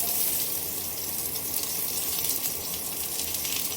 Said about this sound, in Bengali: সর্ষের তেলটা গরম হয়ে গেছে, এবারে আমরা কেটে রাখা পেঁয়াজটা তেলের মধ্যে দিয়ে দেব।